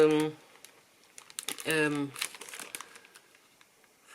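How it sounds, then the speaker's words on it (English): Crinkly transparent silk paper is handled inside a sketchbook, giving brief rustling crackles between and under a person speaking nearby. "I put some silk paper. It's some transparent paper that I have here."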